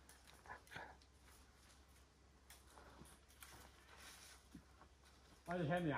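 A dog gives a whining, whimpering cry near the end, rising loud and close after a stretch of faint outdoor noise and soft talking during a squirrel hunt in the forest.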